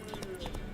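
Horse hooves clip-clop at a gallop in the video game The Witcher 3, a quick run of close, steady hoofbeats with a voice speaking over them.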